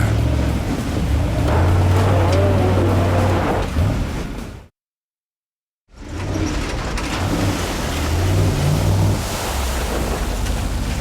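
A full-size Ford Bronco truck drives through an off-road park, its low engine rumble mixed with heavy wind buffeting on the microphone. The sound drops out into silence for about a second midway, then the engine and wind noise resume.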